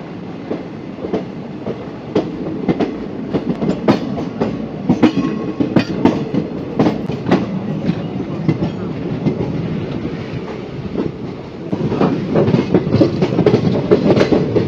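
Passenger train rolling into Purulia Junction on the Howrah–Tatanagar line, a steady loud rumble with rhythmic clickety-clack of wheels over rail joints throughout, swelling louder near the end.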